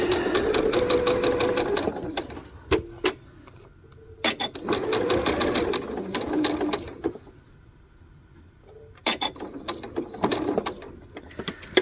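A sewing machine stitches two lines across quilting fabric for half square triangles, running in several loud steady bursts separated by short pauses and mechanical clicks.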